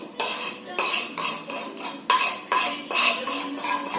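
Vegan bacon ingredients with lemon juice and spices are mixed in a bowl: a utensil scrapes and clinks against it in repeated rhythmic strokes, about eight, close and fairly loud.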